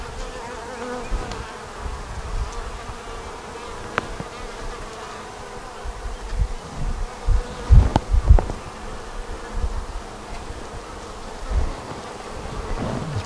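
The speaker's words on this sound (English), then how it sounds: "this has nectar in it" Honeybees buzzing around an open nuc hive frame during a spring hive inspection, a steady close drone with individual bees passing near and occasional handling knocks and rustles.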